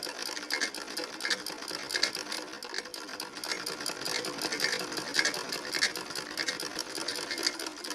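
A sewing machine stitches buckram, fabric and lace together in a steady, fast, continuous rattling whir, close up and even throughout, with no talking.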